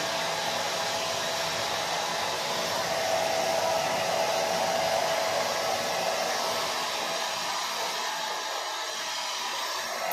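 A hair dryer blows steadily while drying natural hair, a loud continuous airy roar that holds its pitch for the whole stretch with no talking over it.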